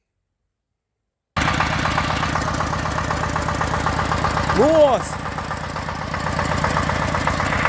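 A small engine on a homemade tractor, newly installed, runs steadily with a rough, thumping idle after a silent start; a brief spoken exclamation and a short whistle-like tone rise midway.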